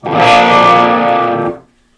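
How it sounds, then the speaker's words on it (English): Electric guitar played through a distortion pedal with its gain set very low, recorded by a Sennheiser e609 into a Zoom unit: one loud sustained chord ringing for about a second and a half before cutting off. "I have the gain almost turned all the way off because this is a distortion pedal"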